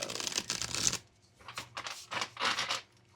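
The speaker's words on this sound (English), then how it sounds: "Let's get a really good shuffle on these cards." Playing cards for a reading are riffled and shuffled in several quick bursts with short pauses between them, close and crisp, with no talking.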